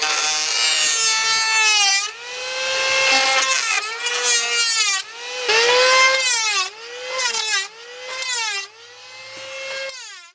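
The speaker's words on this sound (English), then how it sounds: "This is a planer." An old hand plane is pushed repeatedly across a wooden board during boat work, giving a series of drawn-out scraping, squealing strokes with pitch that bends up and down, close and loud.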